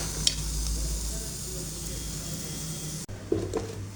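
Chopped tomatoes sauté in a pan for a simple chicken curry, a steady soft sizzle running throughout with a low background hum and a few scraping stirs near the end.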